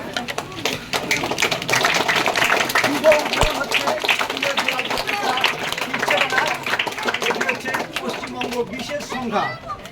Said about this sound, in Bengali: উনি ফিতে কেটে এটি উদ্বোধন করছেন। করতালির মধ্য দিয়ে